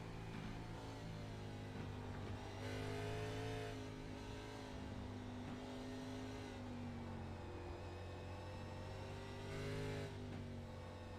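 Race car engine holding a steady drone through a set of S-bend corners with the revs kept low, rising and falling gently in pitch, heard at a distance and fairly faint throughout.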